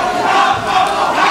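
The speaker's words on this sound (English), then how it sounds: "big crowd here in Hamburg now" Dense roar of a large crowd filling a packed arena at a fight event in Hamburg, a steady, loud wall of cheering and shouting that holds without a break.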